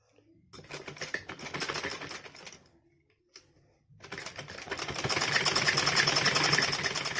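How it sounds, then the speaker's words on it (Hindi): A sewing machine stitches the lining and fabric of a top in two close, steady rattling runs, the second longer than the first, with a short pause between them. "और इस तरह से हम सिलाई लगाएंगे, लाइनिंग की अलग और कपड़े की अलग"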